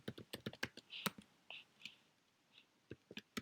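Keyboard typing on a computer while entering a rubric criterion in Moodle: a run of quick, close key clicks in irregular bursts, with a brief pause midway before the tapping resumes.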